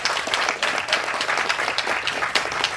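An audience at the Panai movie audio launch applauds with dense, continuous clapping that stays loud and fairly even for the few seconds it lasts.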